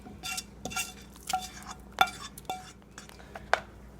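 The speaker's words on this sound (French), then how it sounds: "Puis mélangez." A spinach quiche mixture gets stirred in a baking dish, with repeated scraping strokes and sharp utensil clinks against the dish at an uneven rhythm, close and fairly loud, with no voices.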